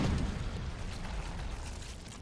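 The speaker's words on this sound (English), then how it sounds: "The mortars are firing." Skaven mortars fire in a video game battle, a dense, continuous low rumble of heavy booms that rolls on without a clear break between shots.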